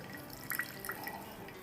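Water squeezed from salted grated bottle gourd drips into a bowl, a few faint, separate drops, two close together and then another, over quiet background noise.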